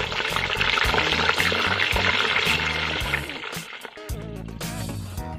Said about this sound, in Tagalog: At habang nagpipilantikan ng mga mantika